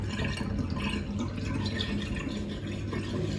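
Water rushes and gurgles steadily out of a dishwasher draining, a constant churning drain noise with no pauses and no talking.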